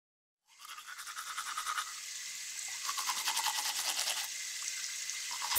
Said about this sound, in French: Je me brosse les dents.